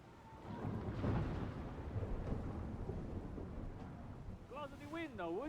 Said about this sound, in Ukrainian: Зачини вікно, починається дощ.